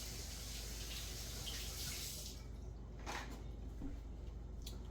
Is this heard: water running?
yes